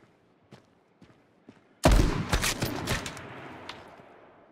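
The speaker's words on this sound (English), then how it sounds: "The other guy is sniping towards me." Sniper rifle gunfire in a battle royale game: a sudden loud shot with a sharp crack and rolling echo that decays over a couple of seconds, after faint footstep-like thumps.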